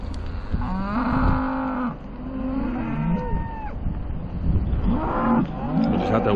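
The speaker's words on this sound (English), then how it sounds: "Aye, go and check the cows." Cattle in a wet farm field give several loud, drawn-out moos, some overlapping. Steady background noise from rain and a vehicle runs underneath.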